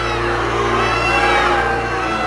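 A large agitated crowd roaring and shouting in a dense, steady wall of voices, loud and close, with no single voice standing out.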